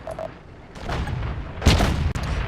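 A tank cannon fires in World of Tanks, a deep, loud boom with a rumbling tail, with fainter thuds and battle noise around it and no talk.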